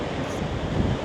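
Wind gusting at Minnehaha Falls in Minnesota, a steady, close rumble buffeting the microphone with a slight swell near the end.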